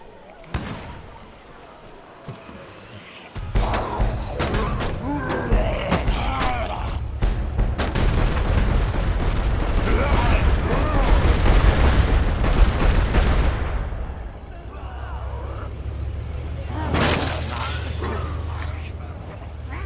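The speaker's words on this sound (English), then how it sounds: "Mortar team, fire barrage on my smoke." A mortar artillery barrage in the video game State of Decay, a loud sustained rumble of repeated blasts and crackling impacts swelling and then fading, with voices talking over it.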